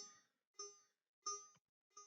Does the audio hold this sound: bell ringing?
yes